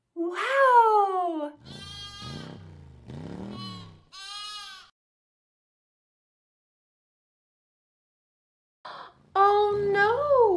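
A sheep bleats in a few wavering calls, with a longer pause before another bleat at the end.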